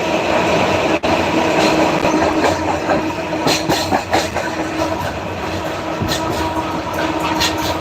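Onboard the Kurigram Express bound for Dhaka, a loud, continuous rumble of the running train fills the carriage, with rhythmic clacks from the rails and occasional sharper knocks.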